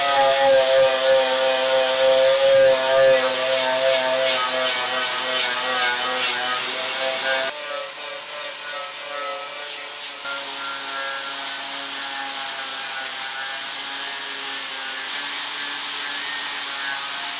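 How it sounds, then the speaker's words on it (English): Power tool stripping old paint from the chassis of a Series 1 Land Rover, a loud, continuous whirring grind with a rough, scraping texture that shifts pitch and eases slightly partway through. "And away we go, stripping paint."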